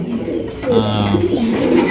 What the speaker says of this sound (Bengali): জার্মান শিল কবুতর।